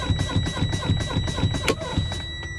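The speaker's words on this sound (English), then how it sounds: "I will now fan my brake until both of my brake knobs pop out between 20 to 45 PSI" A truck's air brake pedal is pumped repeatedly to bleed off air pressure, producing a steady rhythm of about a dozen hissing, thumping pulses up close, with a sharp burst of air near the end.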